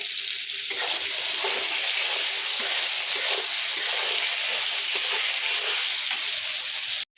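Ridge gourd frying in a pan with salt makes a constant, close sizzle with occasional stirring, ending abruptly, no talking.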